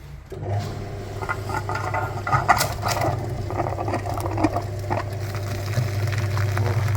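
Flushing machine running to clean the heater radiator of a Mazda 323F, a steady low motor hum with faint gurgling and scraping fluid noise, moderately loud and continuous throughout.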